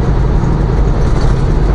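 A car drives along a road, its steady engine hum and tire roar continuous and fairly loud for a couple of seconds, with no voices.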